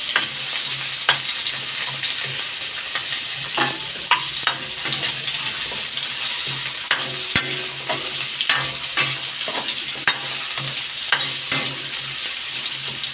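Potatoes and carrots frying in oil for a home-style chicken curry: a dense, continuous sizzle with scattered crackles and occasional utensil clinks, close and fairly loud, with no voices.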